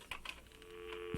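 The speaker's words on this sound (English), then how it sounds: "We've at least got to phone and warn them." Faint clicks and a few soft beeps of a telephone being dialed, followed by a low steady tone, quiet and close in a still room.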